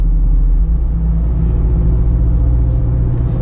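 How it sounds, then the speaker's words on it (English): A Jeep Wrangler Unlimited 392 Hemi accelerates hard, heard from inside with a loud, deep, sustained engine rumble that holds strong throughout. "The way this thing accelerates, it reminds me of my SRT8 Cherokee."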